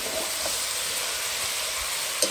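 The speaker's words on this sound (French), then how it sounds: "la viande est en train de cuire encore" Chicken cooking with patol in a pan gives a loud, continuous close sizzle and hiss of frying, steady throughout with a brief clink near the end and no voices.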